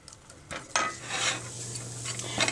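Diced onions soften in a hot pan with a soft steady sizzle, broken by a few utensil scrapes and clinks.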